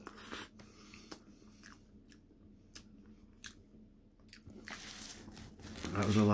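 Close-miked crunchy bites and wet chewing of chili cheese waffle fries come in sparse bursts with quiet gaps between them. The sound grows louder and busier toward the end.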